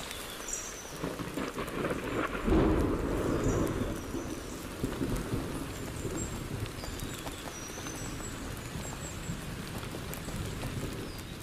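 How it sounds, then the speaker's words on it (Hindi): An autumn thunderstorm pours rain over a forest, with a low rumble of thunder swelling early on beneath the steady hiss of falling drops, and faint birdcalls scattered above. "पतझड़ के तूफान बार बार आने लगे हैं"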